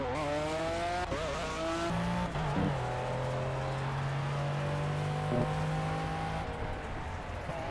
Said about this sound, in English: It still plays the noise even when you're completely stopped.